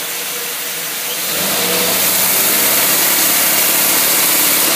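A car engine fitted with an Edelbrock 1903 carburetor idles briefly, then revs up into a loud, sustained roar that holds steady at high speed, with no voices over it.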